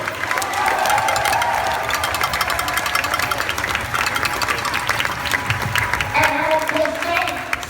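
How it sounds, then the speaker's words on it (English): Loud, sustained applause from a crowd honoring 17 seniors at the St Marks homecoming pep rally, dense clapping mixed with cheering and crowd noise for the whole stretch. "I'd like to give it up with applause for your 17 fine seniors"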